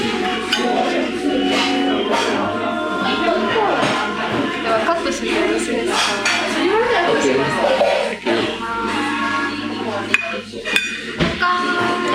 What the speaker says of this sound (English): Okay, so this is the restaurant.